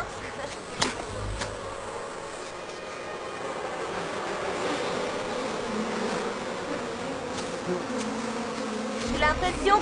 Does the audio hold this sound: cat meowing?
no